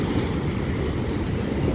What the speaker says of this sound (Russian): Волны страшные, конечно, прям вообще.